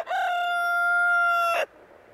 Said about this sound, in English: Foghorn has been heard cock-a-doodle-looing at 7:30 at night